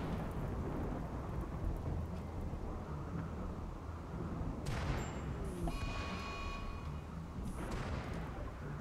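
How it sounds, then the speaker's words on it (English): Rain in the Rimworld video game: a dense, steady roar of downpour with a deep rumbling low end, a brief brighter wash around the middle and thin tonal streaks, no voices. "it's raining now"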